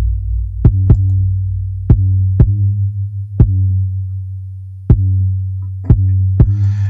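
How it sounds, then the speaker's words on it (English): Sub kick bass drum programmed in FL Studio, a deep sustained low boom under a sequence of punchy attack kick hits in an irregular pattern, loud and close. "We just want that low end boom to help carry the attack kick that we got."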